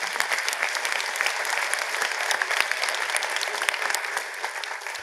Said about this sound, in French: vous pouvez également vous applaudir